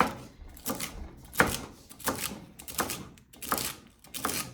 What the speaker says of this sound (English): let me chop up these stalks